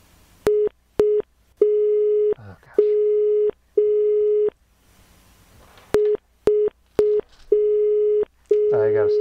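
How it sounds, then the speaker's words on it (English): In the Escape Simulator puzzle game, steady electronic Morse code beeps play in short and long pulses, loud and close, grouped with pauses between sequences. A voice is heard faintly in the background near the end. "Oh, Morse code."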